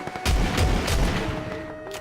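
A shotgun in the video game PUBG booms three times at uneven spacing, each blast loud and heavy with a short decay, with no talking.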